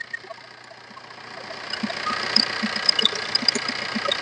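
Maruti Ertiga car engine idling steadily with a low, even rumble that grows slightly louder partway through, heard close up with no talk over it.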